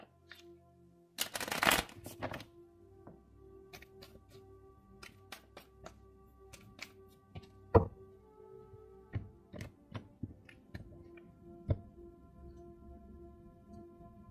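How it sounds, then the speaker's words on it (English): An oracle card deck is shuffled close by in a quiet room: a loud riffle burst near the start, then scattered soft taps, slides and clicks as the cards are handled and laid out. "We're going to get a card now from the Island Time Wellness deck"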